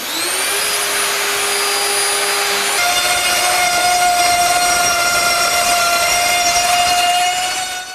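A router cuts a groove into a wooden panel for a corner shelf, its high whine steady and loud throughout with a slight drop in pitch partway through as the bit bites into the wood.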